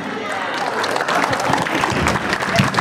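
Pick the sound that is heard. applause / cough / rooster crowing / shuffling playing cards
applause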